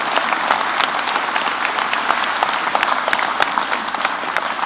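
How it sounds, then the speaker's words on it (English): Dense, steady audience applause fills the room at an event unveiling the 2020 Arrow McLaren SP Indy cars, many hands clapping continuously with no voices over it. "Round of applause for Arrow Electronics and Mike Long."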